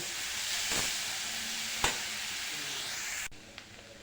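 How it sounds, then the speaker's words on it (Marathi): Dried sukat fish mixture sizzles and hisses steadily in a hot pan while being sautéed without water, with a few sharp spatula scrapes before the sizzle drops quieter near the end. "उकळ घातल्यानंतर पुन्हा एकदा हे सर्व मिश्रण छान परतून घेऊ"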